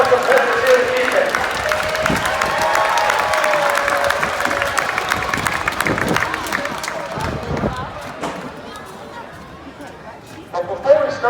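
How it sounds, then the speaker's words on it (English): Crowd applauding and cheering at an evening monster truck show, a steady roar of clapping and crowd noise that fades out near the end. "How about a big round of applause for all of our competitors here this evening?"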